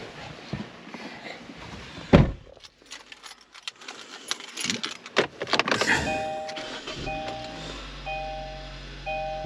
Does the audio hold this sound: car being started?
yes